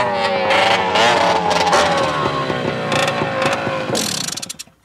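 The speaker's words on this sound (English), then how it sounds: "He's riding the dunes with his son, Greg." A dune buggy drives across desert sand dunes, its engine revving and roaring loudly with shifting pitch as it approaches, then ends abruptly.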